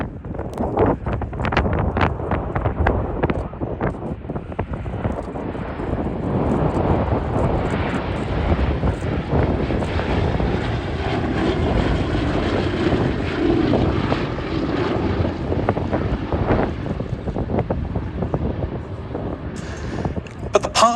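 A steady, loud B-17 bomber propeller drone fills the whole stretch at an air show flying display, rumbling continuously with some wind buffeting, a few faint voices mixed in.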